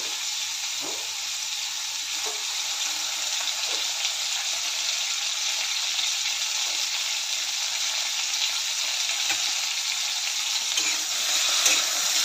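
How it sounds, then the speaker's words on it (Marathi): Bitter gourd slices frying in oil over a low flame, a dense, loud and steady hiss of sizzling oil that runs unbroken and close, with a few soft knocks and no voices. "आता ह्या तेलामध्ये कारल्याच्या चकत्या घालते। मंद आचेवर चांगलं कुरकुरीत होईपर्यंत भाजून घ्यायचं आहे।"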